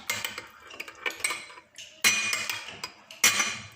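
Honey, lemon and ginger are mixed together in a bowl, with a spoon clinking and scraping against it in quick irregular bursts and a few louder knocks, all close and fairly quiet.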